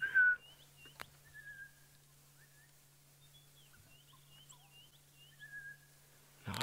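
An unfamiliar bird calls from trees at sunrise, its faint, thin whistled notes repeating at a distance over a steady low hum.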